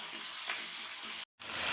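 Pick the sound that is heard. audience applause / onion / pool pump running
onion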